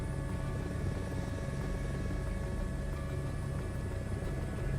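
A helicopter in Microsoft Flight Simulator 2024 gives a steady, droning rotor and engine rumble that stays constant and fairly loud throughout, with no voices over it.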